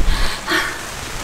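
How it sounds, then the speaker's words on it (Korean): Rain patters steadily on a mesh camping tent during a solo camp in rain and wind, a close, dense hiss of drops with no voices. "빗소리 들려요 여러분?"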